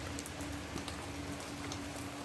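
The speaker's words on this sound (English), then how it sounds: "that is very heavy rain" Heavy rain pours steadily outdoors near a house and allotment, a dense, even wash of drops with scattered splashes and no letup.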